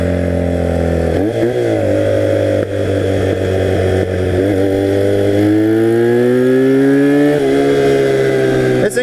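A 1982 Honda 250cc flat track motorcycle with a rigid-mount engine revving up close, a loud buzzing drone that climbs in pitch through several throttle blips, then holds a high, sustained whine.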